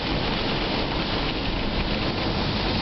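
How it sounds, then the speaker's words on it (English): Heavy rain drums steadily on a taxi at night, a dense, even wash of spray and patter with no letup, loud and close, as the car drives through puddles on wet, slippery roads. "A lot of rain, hydroplaning, puddles everywhere."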